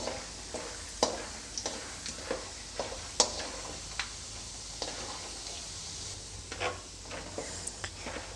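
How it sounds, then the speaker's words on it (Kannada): Peanuts fry in a pan with a constant soft sizzle, while a utensil scrapes and taps through them in a steady stirring rhythm. "ಇವಾಗ ಶೇಂಗಾ ಬೀಜ ಚೆನ್ನಾಗಿ ಫ್ರೈ ಆಗಿದೆ"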